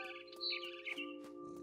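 A mother bird chirps in the video game What Remains of Edith Finch, with a few quick, bright tweets over a steady low hum of game ambience.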